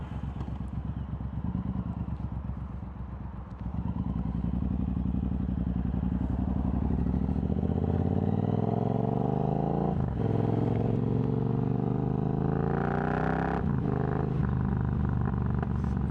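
Bobber motorcycle fitted with slip-on exhausts and an X pipe, engine idling steadily then revving up loud and close with a rising drone, backing off with small pops and crackles on the overrun.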